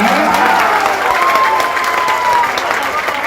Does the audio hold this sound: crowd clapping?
yes